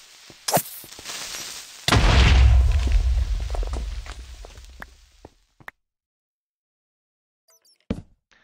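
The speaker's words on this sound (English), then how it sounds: "There's a lot of explosions." A creeper explodes in Minecraft with a sudden loud, deep boom that rumbles and slowly decays over a few seconds, followed by scattered faint thuds and quiet.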